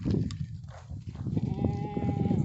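Goat at a Rajasthani livestock sale bleating close by, a few wavering cries standing out over background murmur and rustling.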